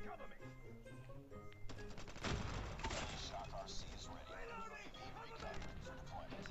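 AK-117 rifle fire in the mobile game Call of Duty: Mobile crackles through dense bursts. Shots with clustered transients start around the two-second mark and run over game audio and voice chatter.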